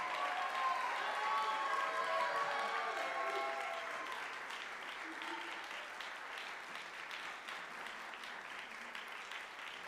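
Audience applause at an awards ceremony, a soft, distant patter of clapping with faint voices underneath at the start, slowly thinning and fading over the clip.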